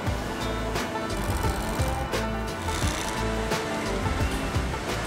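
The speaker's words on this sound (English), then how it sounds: "Shannon Dyer sews the palm protection and fingers together." Industrial sewing machine stitching the leather fingers and palm of a baseball glove, a fast steady mechanical chatter with rhythmic thumps, close and continuous with no talk.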